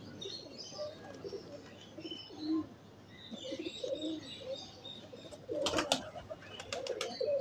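Pigeons kept as hobby birds coo softly and repeatedly at close range, with a few chirps and brief rustling near the end, while people talk quietly in the background.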